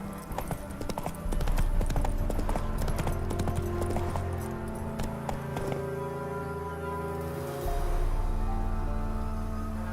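Roach, a horse in The Witcher 3: Wild Hunt, gallops with rapid, rhythmic hoofbeats that stay loud and close throughout, with no talking over them.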